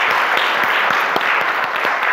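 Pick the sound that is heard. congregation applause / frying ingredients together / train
congregation applause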